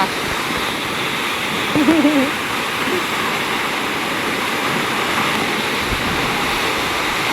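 Bendewadi waterfall near Lonavala, with water crashing down in a loud, constant roar that fills the scene, and a brief faint voice-like sound partway through.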